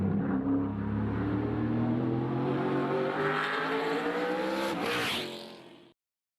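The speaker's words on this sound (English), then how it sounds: "how the car sounds and how the drive looks during a NASCAR race" A race car engine on track during a NASCAR race at Phoenix drones loudly and steadily with rising pitch as it accelerates, then sweeps past and fades out abruptly near the end.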